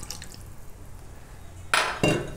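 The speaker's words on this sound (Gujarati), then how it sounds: "એટલે આ રીતની આપણે 3 વાટકી પાણી નાખ્યું" Water is poured from a bowl into a pot of Gujarati boondi and green-onion curry. Two short, loud splashing pours come near the end after a quiet kitchen background, with no talking.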